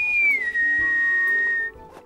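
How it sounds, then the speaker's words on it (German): A single clear whistled note, loud and close, that slides down slightly in pitch and holds for over a second before breaking off. "Und man kann zur Begrüßung pfeifen."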